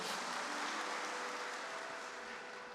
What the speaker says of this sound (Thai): ปรบมือให้ตัวเองดัง